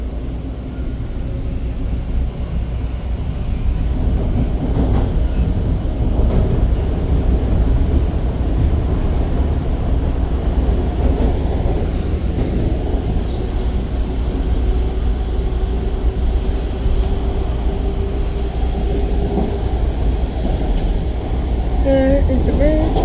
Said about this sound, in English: Eastbound train to Kennedy is right there.